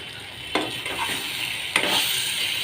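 Ground spices with chili, turmeric and cumin powder and salt, stir-fried with potatoes and pointed gourd in a pan: a steady bright sizzle with two sharp scrapes of the spoon against the pan.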